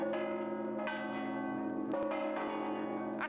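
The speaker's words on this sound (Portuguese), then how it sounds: "Às 7 em ponto, os sinos das igrejas ressoaram." Church bells ring out with steady, resonant strikes, their tones overlapping and humming on between strokes, heard from a moderate distance.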